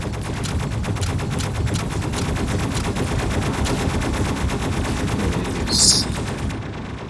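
A dual minigun fires nonstop in a video game, a dense rapid rattle of gunfire that stays loud and even, with a brief high whine near the end.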